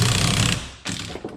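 A Milwaukee drill spins a socket on a long extension during suspension work on a 2019 Ram 1500, a loud steady mechanical whir for about half a second, then brief quieter bursts of turning.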